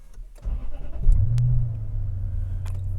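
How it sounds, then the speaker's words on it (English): A Lexus GS430 engine cranks and fires up, a short starter whirr followed by a swelling low rumble that settles into a smooth, steady idle nearby. "Let's start the engine."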